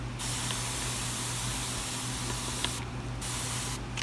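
A steady, continuous hiss from a spray bottle misting liquid fertilizer onto a carnivorous plant, held for several seconds with brief gaps near the end, close by and fairly quiet.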